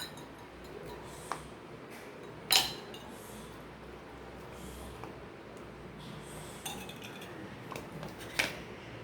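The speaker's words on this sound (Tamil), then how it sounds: "ஐஸ் க்யூப்ஸு இந்த மாதிரி சேர்த்துக்கலாம்" Ice cubes dropped into a glass of iced mocha coffee, a few sharp, separate clinks and knocks spread apart over a quiet background.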